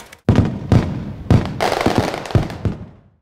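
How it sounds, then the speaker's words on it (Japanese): Fireworks go off close by at a fireworks party, with several sharp bangs and crackling bursts in quick succession, loud and without talk. "じゃあいっぱい花火あるんでとにかく楽しんじゃいましょうか。"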